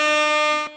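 A sustained air horn sound effect blares loud and steady as one rich, buzzy blast, then cuts off abruptly near the end.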